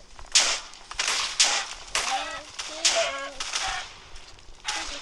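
In a Minecraft game, a chicken takes damage: a string of short squawking hurt cries repeats several times over a bright, busy game background, loud and close.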